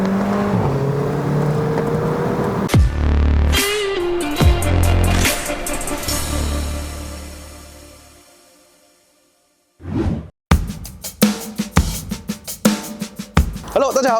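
A 2015 Mercedes-Benz A45 AMG driven hard on a mountain road up to Genting in Malaysia, the engine revving and shifting through gears, dropping to near silence midway, then sharp bursts and pops, close and loud.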